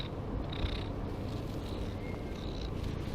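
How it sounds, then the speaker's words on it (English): Soft, steady cat purring, a continuous low rumble up close with faint higher chirps above it, no voices. "Purring is one of those behaviours that's familiar to all cat owners."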